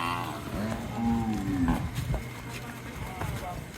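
Dairy cows lowing in a cattle market, with long, deep moos rising and falling over people talking nearby.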